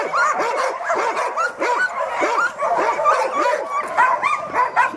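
Laika hunting dogs bark rapidly and excitedly at a kennel, several overlapping yips and barks in a near, continuous volley with some whining between them.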